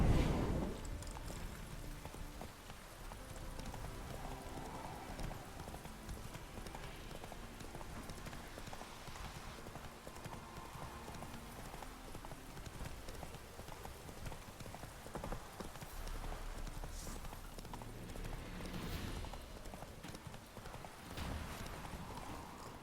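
Roach, a horse in The Witcher 3: Hearts of Stone, gallops in a steady, quieter hoofbeat clip-clop over game ambience and music, lasting throughout.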